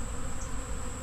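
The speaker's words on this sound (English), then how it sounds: "No kidding, less than a minute for the bees to find the extractor." Honey bees swarm around a honey extractor after a harvest, giving a close, continuous high-pitched buzz over a low background rumble.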